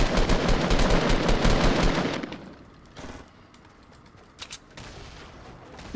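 Rapid, loud automatic bursts of grenade launcher fire ring out in the video game Fortnite for about two seconds, then fade to quieter scattered sounds and a few faint distant pops.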